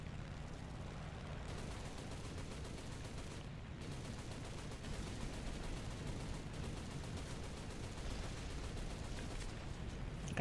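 Continuous rapid machine gun fire from the rear gunner of an SU-2 aircraft in War Thunder, a dense rattling stream over a constant engine drone, steady and moderately faint throughout.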